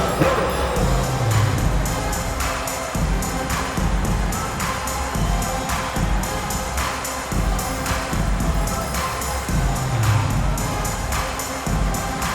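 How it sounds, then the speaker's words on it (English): Arena crowd at an NBA playoff basketball game, Clippers versus Nuggets, cheering and clapping in a steady, loud roar that fills the whole stretch, with no talk over it. "Let's give a round of applause for your Clippers."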